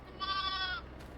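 A sheep on a farm gives a single clear bleat lasting about half a second, close by and fairly quiet, over faint background noise.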